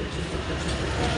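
A passenger train stands at Lataguri station beside the jungle, ready to depart, its steady low rumble and hum filling the air continuously, loud and close.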